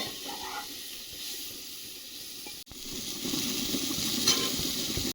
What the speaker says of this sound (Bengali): যতটুকু কাটতে পেরেছি তাড়াহুড়ো করে কেটে ভাজা বসছে